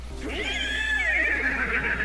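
A horse neighs once in a long, loud, close whinny with a rising then wavering pitch that holds for nearly two seconds.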